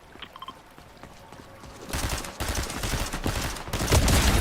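Video game gunfire, a rapid fusillade of shots that starts after a quiet opening and builds into dense, loud bursts of automatic fire continuing to the end.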